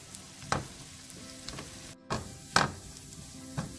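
Turmeric and coriander powder stirred into hot oil for a garlic curry, giving a low continuous sizzle with a handful of sharp spoon scrapes and knocks against the pan, close by, without speech.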